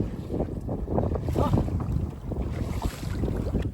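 Strong wind buffeting the microphone in low, gusty rumbles, steady throughout with no voices.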